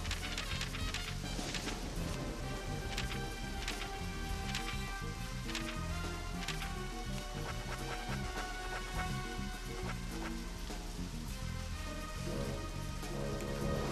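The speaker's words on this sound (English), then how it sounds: "And it's raining. And we don't want to be in the rain." Steady rain falling in the video game Deadly Premonition, a dense continuous patter that holds level throughout, mixed with game music and other in-game sounds.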